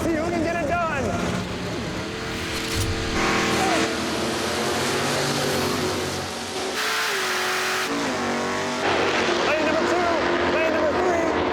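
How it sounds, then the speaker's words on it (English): A stroked 469 cubic inch Oldsmobile big block drag race car accelerates hard during a four-wide drag race at ZMax Dragway, its loud engine roar rising in pitch through the run while someone talks over it. "469 cubic inches of stroke Oldsmobile big block power."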